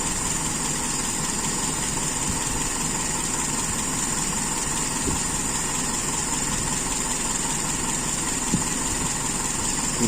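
A carbureted motorcycle engine idling with a lean idle mixture, a steady close mechanical thrum that holds even and unbroken with no revving and no voices.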